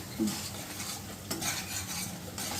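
Yogurt with spices is stirred in a pan, a close, continuous scraping and soft sizzle with light clinks of the spoon over a short stretch, and no talk.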